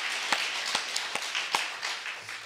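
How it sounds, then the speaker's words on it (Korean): Scattered claps from a church congregation during a Sunday worship service at Daegu Hana Church, a handful of distinct hand claps spaced irregularly over a soft, steady room background, fairly quiet and without talk. "박수를 하나님께 드리겠습니다"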